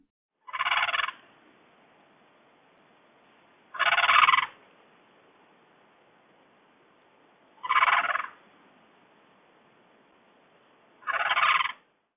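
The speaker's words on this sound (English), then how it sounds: "Crane." Crane calling in four loud, separate bursts spaced a few seconds apart, each a short harsh trumpeting note with silence between.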